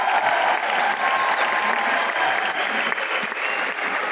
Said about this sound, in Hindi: मैं चाहूंगा एक बार जोरदार तालियां पर मिस्टर हरीश अरोड़ा